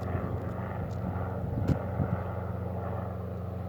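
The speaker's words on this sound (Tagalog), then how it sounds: "Ah, may dumadaang helicopter oh." Small helicopter flying over a garden of flowers in Austria in the early evening, a continuous low rotor-and-engine drone at a moderate distance, fairly steady and heard without speech.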